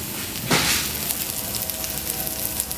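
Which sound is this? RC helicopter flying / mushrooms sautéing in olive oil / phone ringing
mushrooms sautéing in olive oil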